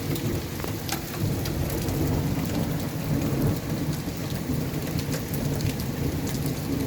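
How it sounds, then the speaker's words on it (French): Steady, dense rain and hail pattering on a surface with rolling thunder rumbling low beneath it from a storm passing directly overhead, continuous throughout with occasional sharper hits. "l'orage que je vous dis qui passerait juste au-dessus de moi"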